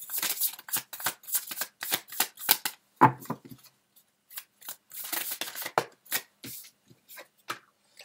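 Tarot cards are shuffled and drawn, producing close, crisp bursts of riffling and flicking in irregular clusters with brief pauses between them.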